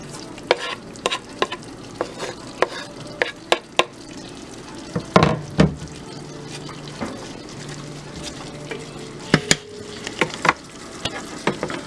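Onion fries in a pot for a Guyanese catfish curry: a continuous soft sizzle runs under repeated clinks and scrapes of stirring, heard up close.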